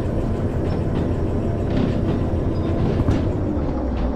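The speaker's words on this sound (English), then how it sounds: "this particular train can be a little bit slow because it's just a basic start-up one" A basic start-up train runs steadily in Derail Valley, a continuous rolling rumble with faint clickety-clack of the wheels on rails, no voices.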